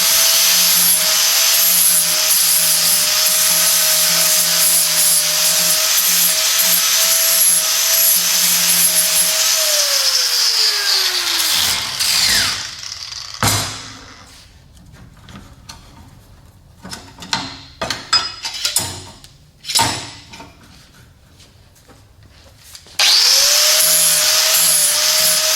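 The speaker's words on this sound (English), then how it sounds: "we'll clean that up with a angle grinder and a flapper disc" An angle grinder with a flap disc cleans plasma-cut steel parts: a loud, steady high whine that spins down midway, then scattered scraping and knocks, before the grinder roars back up near the end.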